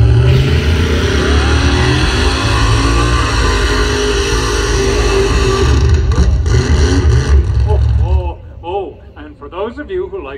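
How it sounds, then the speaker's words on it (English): A loud, sustained engine roar standing in for a sleigh afterburner blasts for about eight seconds under a talking voice, then cuts off abruptly and leaves only speech. "if we need to dash over the Himalayas, we can throw on the afterburner"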